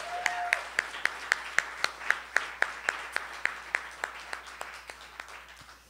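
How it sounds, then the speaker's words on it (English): Slow, evenly spaced claps ring out at a comedy show, about two per second, crisp and fairly close against a quiet room, gradually softening toward the end. "Before we end the night, can we have a huge round of applause for Shannon Kaysen?"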